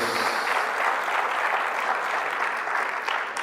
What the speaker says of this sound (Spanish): Fuerte ese aplauso a nuestro Dios